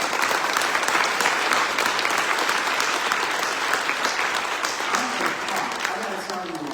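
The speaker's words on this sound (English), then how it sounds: "please give a round of applause again to the award winners." A full conference hall of attendees at the VCHA Annual Conference keynote claps steadily for the award winners, a thick, even roar of applause that holds loud throughout and eases only slightly near the end.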